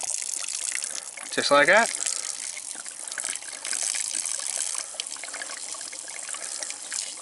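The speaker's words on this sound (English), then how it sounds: "I put these drains on, and I will drain it all out." Water draining out of an off-grid cabin's plumbing through opened drains: a steady trickling and gushing flow that runs throughout, with someone speaking briefly early on.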